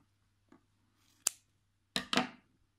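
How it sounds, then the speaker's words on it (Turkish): Scissors snip through crochet yarn while finishing a crocheted baby hat, giving one faint early snip and then three sharp, close cuts, the last two in quick succession, in an otherwise quiet room. "zincirimizi çekip makasımız yardımıyla keselim"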